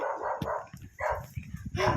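Dog barking in a video game, a few short yapping barks in quick succession, close and moderately loud, with a whimpery tone between them.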